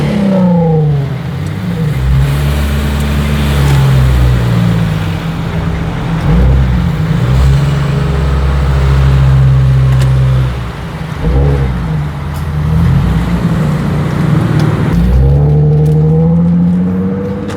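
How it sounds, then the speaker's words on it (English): A warmed-up Nissan 350Z engine revs repeatedly, loud and close, climbing and falling in pitch through several throttle blips with idle between. "This car is already warmed up, so let's give it a few revs."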